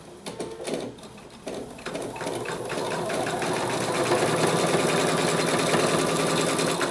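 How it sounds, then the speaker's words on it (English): A sewing machine runs steadily, stitching a quarter-inch seam on a small raccoon mug rug, its rapid mechanical chatter building and holding loud and close with no talking. "then start the machine, and the machine's going to stitch a quarter inch seam"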